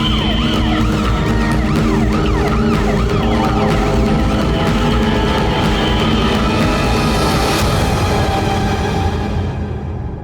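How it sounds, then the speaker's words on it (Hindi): An ambulance siren wails loudly and continuously nearby, its rising and falling tone cycling over traffic rumble for about ten seconds before fading slightly at the end. "एम्बुलेंस आई क्या?"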